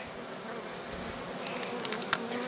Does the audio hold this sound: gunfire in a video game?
no